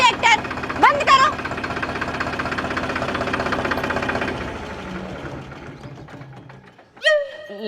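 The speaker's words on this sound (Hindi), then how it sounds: "बंद करो ट्रैक्टर बंद करो" A tractor engine runs with a steady, knocking mid-range throb through most of the stretch, then fades toward the end as it is shut down, with people talking over it.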